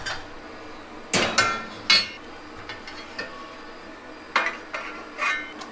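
Metal cover being fastened back onto an electrical panel in an off-grid shipping container with two screws: a few sharp metallic clinks and taps spaced irregularly, close by, in a quiet room.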